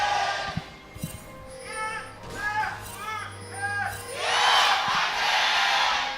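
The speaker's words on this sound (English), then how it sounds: "that cheer sounded louder than your average T1 cheer" An arena crowd at an LCK 2025 esports match between DRX and DN Freecs sends up a loud, swelling roar of cheers near the end, after a stretch of excited caster talk and scattered whoops.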